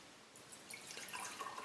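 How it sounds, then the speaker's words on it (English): Hot tap water poured from a measuring jug into a glass, a soft close trickle and splash that builds slightly over a couple of seconds in a quiet room. "We'll just pour that into the glass"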